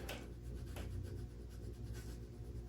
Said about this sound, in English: Go through each fret, putting a little pressure on each string, only on the fret, just so you don't sand the wood or anything